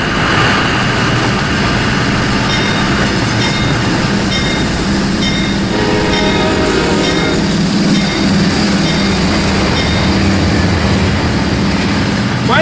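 CSX train running in the video game Rolling Line, a continuous loud rumbling roar of rolling wheels and engine that fills the clip steadily with faint tonal squeals on top.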